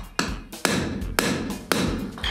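A hammer strikes a boat propeller during adjustment, landing four sharp, hard metallic blows at a steady rhythm. Each blow is loud and close, with a brief ringing tail between strikes.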